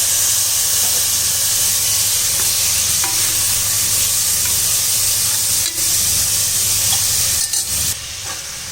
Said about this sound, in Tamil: இப்போ நம்மளுக்கு வெங்காயம் தக்காளியெல்லாம் போட்டு நல்லா வதக்கியாச்சு